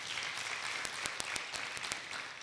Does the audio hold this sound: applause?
yes